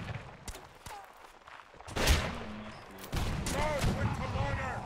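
Musket gunfire at an army reenactment event: a few distant pops, then a loud close shot, followed by a dense crackle of firing, with people shouting over it.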